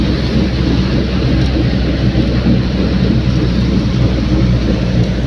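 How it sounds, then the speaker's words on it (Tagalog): A heavy, continuous roar of rain pours down without letup, loud and dense, with a deep rumbling undertone. "Grabe lakas ng ulan."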